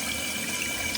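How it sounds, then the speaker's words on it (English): A household toilet flushing water into the bowl during a tank valve repair, a steady close rushing wash of water throughout, loud and alone. "just going to flush that nastiness away real quick"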